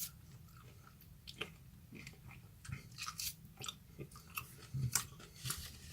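Close, wet chewing and biting on a sour lemon quarter, with irregular crunchy bites and squelches over a quiet background, growing louder toward the end.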